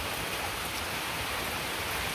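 Steady morning rain falls in an even, hissing wash on surfaces outdoors, soft and continuous, with no voices.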